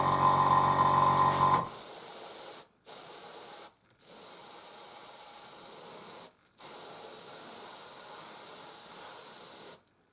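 An airbrush sprays paint onto a Panzer IV scale model in bursts of steady hiss, with short pauses between passes; a brief louder burst opens the clip.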